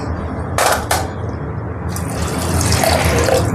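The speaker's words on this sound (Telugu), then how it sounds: "వాటర్ వేసి" Water splashes and streams into a pot holding cardamom, cloves and cinnamon for dal, a steady pour with a couple of sharp clanks near the start.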